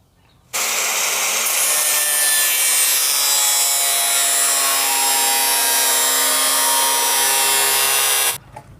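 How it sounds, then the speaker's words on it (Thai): A power saw cuts lengthwise about 30 cm along a PVC pipe to split it into four strips, a loud, continuous, high-pitched rasping whine that starts abruptly, runs for about eight seconds and stops, close up with no talk. "เราจะผ่าออกเป็น4ซี่นะครับ โดยผ่าลงมายาวประมาณ 30เซนติเมตรนะครับ"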